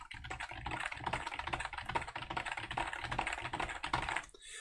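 Fingers type steadily on a computer keyboard, a close, continuous patter of quick key clicks that runs for several seconds with no talking, then stops.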